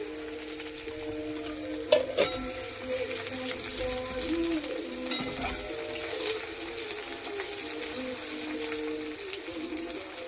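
Chopped garlic and ginger fry in hot oil with a steady, fairly loud sizzle, broken by a brief utensil clank early on.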